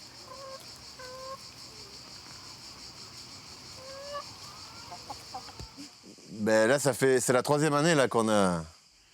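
Hens cluck and murmur softly in the background over a steady ambient hum, then a voice talks loudly up close near the end.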